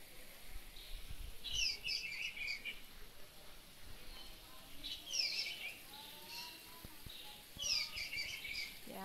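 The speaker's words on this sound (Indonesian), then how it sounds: "Ada burung dipelihara di sini juga." Pet birds kept at a villa in Bandung give three bursts of bright, twittering chirps at regular intervals. They sound moderately near over a low background murmur.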